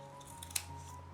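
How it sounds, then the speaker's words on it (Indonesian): One quick, crisp snip of scissors trims the excess string tie from a pyramid-shaped bakcang rice dumpling, close and quiet against a steady low background hum. "Ini masih ada lebihnya, kita gunting."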